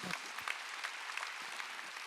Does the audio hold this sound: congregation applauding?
yes